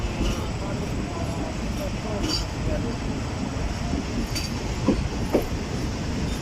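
Passenger train rolling along the track into a station on the Karachi to Hyderabad line, a steady loud rumble and rattle throughout with faint wheel clicks and squeals, voices faintly underneath.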